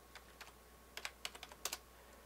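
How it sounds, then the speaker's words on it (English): Typing on a computer keyboard while drawing a bookcase in AutoCAD, a light, uneven run of key taps that clusters into quick bursts, faint and close against a low steady hiss, with no talking. "There's buttons for all this stuff here, but I prefer typing it in."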